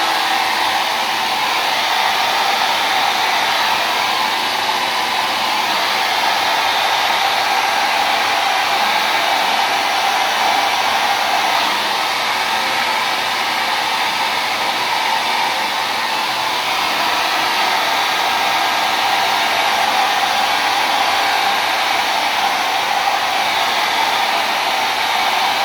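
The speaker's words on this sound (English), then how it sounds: "Now blow dry that again, but you want to act quickly before it hardens." Hair dryer blowing steadily at close range while styling a rockabilly pompadour, a constant loud whooshing roar that runs unbroken for the whole stretch with no voices.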